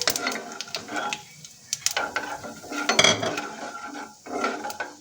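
Whole black pepper, coriander seeds, red chili and cumin dry-roasting in a pan, a close, steady crackle and sizzle broken by scraping stirs and light clinks of a spoon against the metal.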